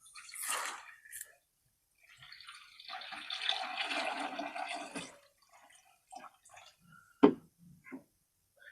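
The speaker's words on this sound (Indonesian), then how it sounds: "Sambil nunggu penuh teman-teman, kita siram-siram yang di sebelah sini" Water splashes and pours in short bursts while plants are watered outdoors, with gaps of quiet between sprays and a few small drips and knocks near the end.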